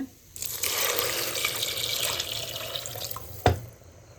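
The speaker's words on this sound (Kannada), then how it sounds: "ಐಕ್ಕೆ ನೀರು ಪಾಡ್ದು ಆ್ಯಡ್ ಮಾಡ್ತದಲ್ಲ" Water pours steadily into a cooking pot of spiced egg curry with a rushing, splashy hiss for several seconds, ending with a sharp clunk.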